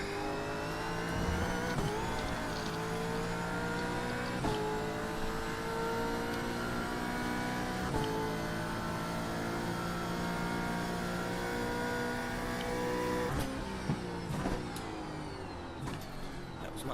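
A race car engine in a racing video game drones loud and steady, its pitch climbing and then dropping abruptly at each gear change in a repeating cycle of revving and upshifts, running continuously without a break.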